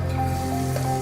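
Ginger and garlic sizzling in hot oil in a wok, a steady, loud, dense frying hiss that holds evenly throughout with no voices.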